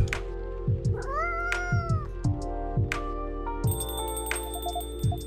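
A cat in the Coffee Talk video game meows several times with rising and falling pitch over a soft, steady musical background, and a brighter chiming tone joins partway through.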